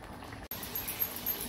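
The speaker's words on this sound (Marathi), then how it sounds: "मस्त कडकडीत तेलावर मी लसूण आणि जिरे टाकले" Garlic and cumin hit hot oil for a tempering on a dish of dried chickpea-leaf greens, giving a steady, faint crackling sizzle that cuts out briefly and then resumes.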